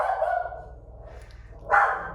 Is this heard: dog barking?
yes